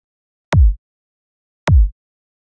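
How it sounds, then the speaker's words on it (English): Two short, punchy kick drum hits, each a quick thump with almost no tail, separated by about a second of silence. "We can make it shorter, so we just have an initial kick drum"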